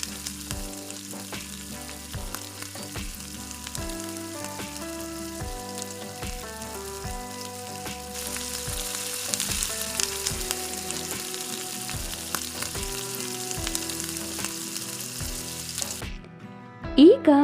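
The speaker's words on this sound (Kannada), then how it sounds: "1/4 ಚಮಚದಷ್ಟು ಅರಿಶಿನ, ಹಾಗೆ ಸ್ವಲ್ಪ ಇಂಗು, ಹಾಗೆ 2 ಗುಂಟೂರು ಮೆಣಸಿನ್ಕಾಯಿನ ಸೇರಿಸ್ಕೊಂಡು ಎಲ್ಲನೂ ಸಹ ನೋಡಿ 4ರಿಂದ 5 ನಿಮಿಷ ಚೆನ್ನಾಗಿ ಫ್ರೈ ಮಾಡ್ಕೊಬೇಕು." Turmeric, asafoetida and Guntur chillies frying in oil for onion dal sambar, a continuous close sizzle with regular rhythmic pulses from stirring or a nearby appliance, then a brief clatter at the end.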